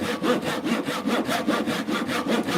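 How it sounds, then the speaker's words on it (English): A pull saw cuts through wood with close, rhythmic rasping strokes, roughly five per second, steady and fairly loud. "I wonder if we could do it with a pull saw that way round."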